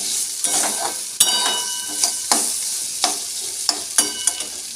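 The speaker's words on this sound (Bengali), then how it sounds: "এখন হচ্ছে গিয়ে দেখো তরকারিটা করছি আলু বেগুন দিয়ে একটা তরকারি করছি" Potato and eggplant curry fries in a pan while being stirred, a steady sizzle broken by repeated scraping strokes and clinks of the spoon at an irregular rhythm, close and alone.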